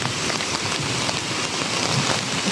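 Heavy, continuous rain pours over a flooded street corner in Manila, a dense, even hiss of drops striking surfaces with no talk.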